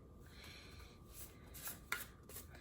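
A smooth Sacred Symbols oracle card deck being shuffled by hand, close soft riffling and rubbing card sounds with a sharper snap near the end, no speech.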